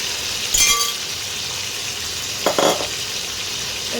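Marinated chicken pieces frying in medium-hot oil, a steady bright sizzle throughout with two short clinking bursts of pieces or utensils against the pan, no voices.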